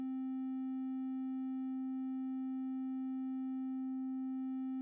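Steady synthesizer pad built in Reaktor, a sustained tone with a rich harmonic stack and an LFO gently modulating the filter, holding evenly and alone throughout at moderate level.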